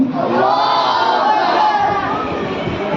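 A crowd at a school annual day shouting a takbir chant in unison, a loud swelling roar of many voices that rises and then tapers off.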